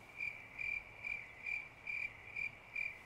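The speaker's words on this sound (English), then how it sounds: "One of the first things that I noticed was the crickets." Crickets chirp in a steady rhythm, seven evenly spaced high trills over a soft background hiss, fairly faint and with no voices.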